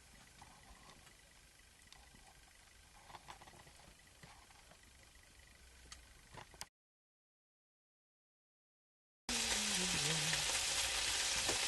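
Bacon sizzles and spits in a pan on a small Hobbit woodburning stove, with faint crackling and popping at first. After a silent gap, a much louder, dense frying hiss returns close by.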